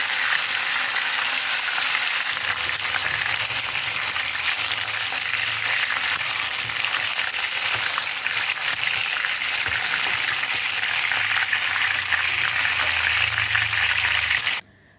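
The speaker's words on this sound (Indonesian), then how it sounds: "Ini ayamnya digoreng sebentar saja, tidak perlu terlalu kering, cukup berkulit." Chicken pieces marinated in lime juice sizzle in hot oil in a pan, a loud, steady crackling hiss that holds for the whole stretch and cuts off abruptly at the end.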